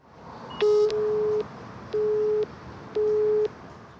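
A telephone busy signal sounds on a call to a regional gas supply company in Rivne, Ukraine: a brief click, then three steady, evenly spaced beeps with short pauses, clear and alone.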